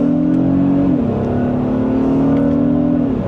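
A 2026 Honda Pilot Elite accelerates hard in sport mode from second gear, its engine drone climbing steadily in pitch with a brief dip at a shift, loud and continuous from inside the cabin.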